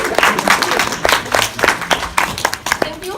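An audience gives a round of applause to a university culture show crew, with dense, overlapping clapping from many hands in a room, fairly loud and continuous throughout.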